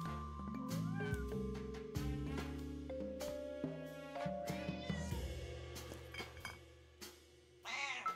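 A cat in a video game meows over and over, high and close, over a backdrop of soft game music, with clinking glassy accents scattered through.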